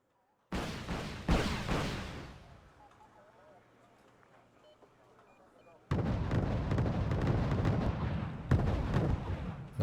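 Artillery and gunfire in the Wargame: Red Dragon strategy game, set in a Second Korean War campaign, come as loud bursts of booming salvos, first a short barrage then a quieter lull before a dense sustained volley of explosions.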